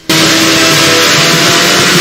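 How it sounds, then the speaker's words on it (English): Loud, deafening kart engine from the Dreamcast racing game Kart Flag to Flag kicks in abruptly and roars steadily at full volume throughout, with no talk. "it is consistently drowned out by the absolutely deafening engine noise"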